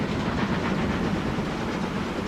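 A mixed goods train running in the railway game Transport Fever 2, a steady low rumbling roll with faint rhythmic clatter, moderate and continuous.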